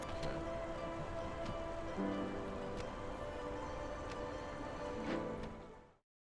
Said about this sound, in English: I'm kind of a sucker for rain in games.